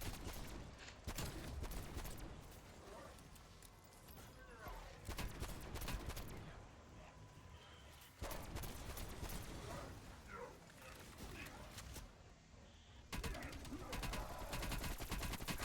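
AK rifle fire in a Call of Duty zombies match comes as dense, continuous bursts of shots mixed with game effects, loud and sustained with brief dips.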